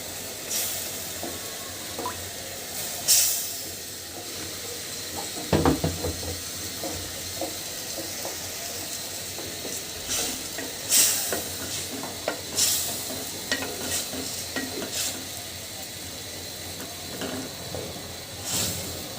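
Washed fish pieces sizzle and fry in a pan of well-cooked spice paste, with quiet crackling, stirring scrapes and occasional clinks of a utensil throughout.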